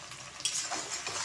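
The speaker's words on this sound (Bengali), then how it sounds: "এখন আমি ঢেঁড়সগুলি ভেজে নেব।" Okra sizzles in hot oil with turmeric and salt, a soft, close crackle that swells after a short stir and keeps popping lightly.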